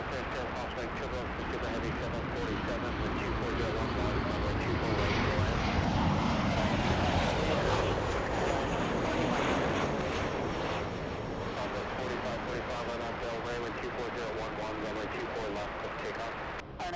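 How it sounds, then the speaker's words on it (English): A cargo freighter jet arriving on the north side at LAX gives a loud, sustained engine roar that swells and holds steady over about seventeen seconds, with voices talking over it. "Flights just in time to see a rare north side arrival by a cargo, a freighter."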